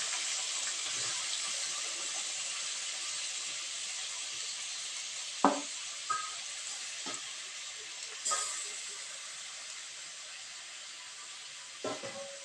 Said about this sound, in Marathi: हे चांगलं आपण तेलावर परतून चांगलं घेऊया.